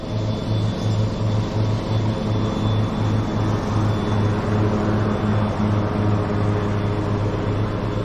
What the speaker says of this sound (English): Sorry about the lawnmower sound.